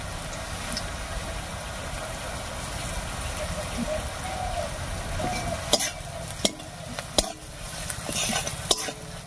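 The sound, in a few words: stirring frying onions with salt and turmeric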